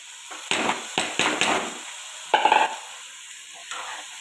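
Green beans fry in oil in a pan and get stirred in a series of sharp scraping strokes, loud and close, over a steady faint sizzle.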